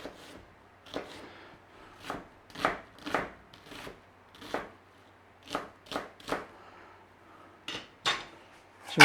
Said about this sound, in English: let's not get stressed over dicing an onion.